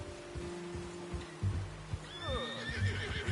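A horse neighs in Red Dead Redemption II, a rising then falling whinny in the second half, set over low game music and soft thuds of hooves.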